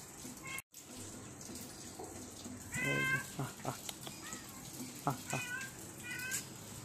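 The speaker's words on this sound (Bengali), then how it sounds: "তো আজকে ওই যে বিড়াল খাচ্ছে এখানে" A cat meows a few times close by, short tonal calls against a quiet room with faint running water in the background.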